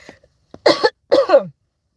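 A person with an illness coughs twice in quick, harsh bursts, close and loud, with a faint throat sound just before.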